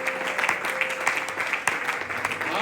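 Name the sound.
congregation applauding in church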